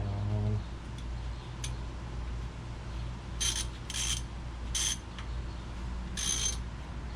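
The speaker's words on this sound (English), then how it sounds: "I was in between positions on the ratchet there" Ratchet clicking as brake caliper bolts are tightened during pad replacement on a 2008-2013 Kia Soul, a few short bursts of ticking spaced apart over a low steady hum.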